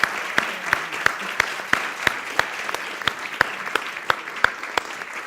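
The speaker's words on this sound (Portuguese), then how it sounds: "uma salva de palmas para este painel" A panel audience at a health conference claps together in an even, steady beat, a sharp clap roughly three times a second over a low crowd texture, with no talking.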